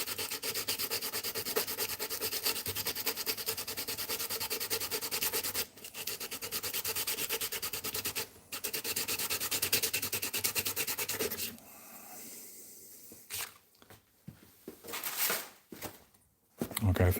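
Steel pick blank is sanded by hand in a workshop, a fast, steady rasping stroke that runs continuously, breaks off briefly twice, then gives way to scattered shorter scrapes and handling noises near the end.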